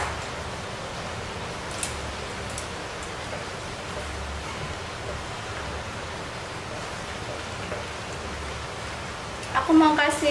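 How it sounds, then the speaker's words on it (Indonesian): Rain falling steadily outside on an overcast day, a soft, even hiss of noise that continues throughout, with a brief louder clatter of kitchen sounds at the end. "Ini cuacanya lagi mendung banget dan sekarang hujan."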